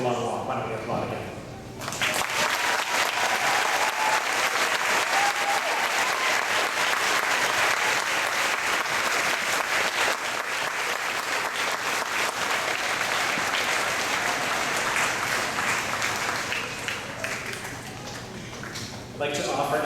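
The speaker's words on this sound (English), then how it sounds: "why don't we applaud again?" Loud, sustained applause from a large audience at a school graduation ceremony, beginning abruptly after a brief quiet lead-in and keeping a dense, even roar for most of the span before easing slightly near the end.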